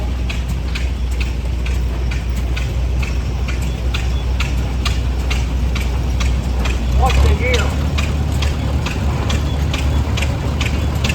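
A 1918 Case steam tractor running in a parade at a historical engine show, its regular rapid mechanical chuffing and clanking repeating evenly throughout, with a low steady rumble beneath and a person asking a question partway.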